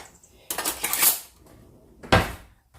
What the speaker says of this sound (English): Just going to get a spoon.